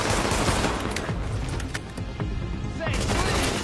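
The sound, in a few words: gunfire in the video game The Division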